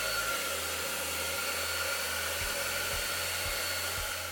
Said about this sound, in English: I recommended blow drying it to the back and then blow drying it to the front.